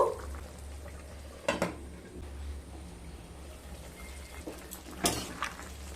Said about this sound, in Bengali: তরকারিটা ফুটে এসছে